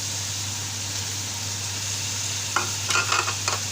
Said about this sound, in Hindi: मिक्स करेंगे। आध टमाटर डाल देंगे।